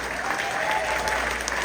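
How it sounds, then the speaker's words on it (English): A live audience at a stage event claps in a steady, moderately loud round of applause that continues throughout the short stretch. "Another round of applause for Ryan, huh?"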